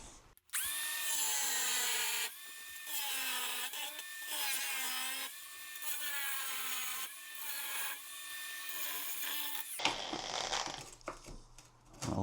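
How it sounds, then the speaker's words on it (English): A grinder fitted with a large diamond blade cuts into shower tile in repeated bursts, its high whine rising and dipping as it bites, ending in scraping and handling noise. "one of these big diamond blades and just grind that out"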